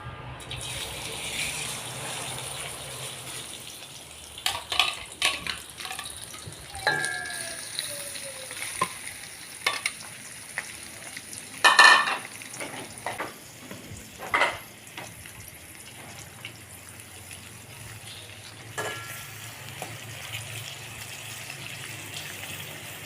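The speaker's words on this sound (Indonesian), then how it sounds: "Kita goreng udangnya." Shrimp fry in a pan with a steady sizzle, with occasional clinks and scrapes of utensils and some water-like hiss throughout, no talk.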